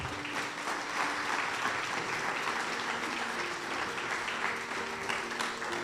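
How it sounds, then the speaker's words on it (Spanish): A church congregation applauds steadily during a Spanish-language worship service, with a dense, sustained wash of clapping, loud and close, that holds at the same level for the whole span and has a faint tone in the background. "Dale un fuerte aplauso al Señor."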